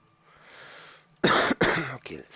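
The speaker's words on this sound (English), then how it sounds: "Sorry for the cough." A person coughs twice in quick succession, loud and close, after a stretch of faint background hiss during gameplay.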